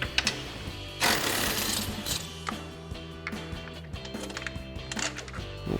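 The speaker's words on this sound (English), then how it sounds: "So we'll use our 13mm socket, get these out." A 13mm socket backs bolts out of the front bumper of a 2021-2023 Ford F-150, giving a steady, loud mechanical whirring and rattling that runs nearly throughout, with short clicks and knocks on top.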